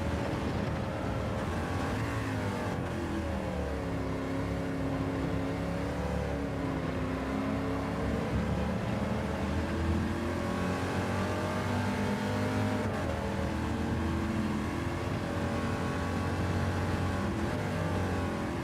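Race car engine in a racing video game pulling out of the pits, a steady loud drone with shifting pitch as it accelerates, running continuously without talk.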